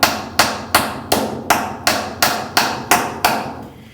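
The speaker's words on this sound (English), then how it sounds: "and I hammered it." Steady hammer blows drive nails into a mount for a fish room drain system, about nine sharp strikes in an even rhythm, each loud and close with a short ringing decay.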